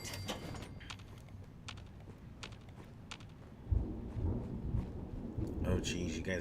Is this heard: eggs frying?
no